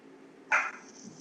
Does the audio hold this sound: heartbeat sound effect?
no